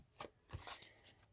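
Tarot cards are shuffled in quick soft riffling bursts, three brief crisp flurries separated by short pauses, faint and close, with no talking.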